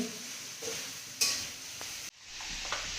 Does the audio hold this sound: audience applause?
no